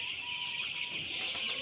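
Chickens in a poultry shed cluck faintly amid a steady, hissing background, with no voices.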